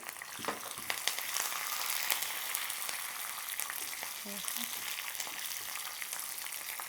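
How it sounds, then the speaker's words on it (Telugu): Spice tempering (popu) of chillies and mustard seeds frying in hot oil for rice rava pulihora, a steady close sizzle with a few soft pops and stirring scrapes. "ఇప్పుడు పోపు వేగింది కదండి"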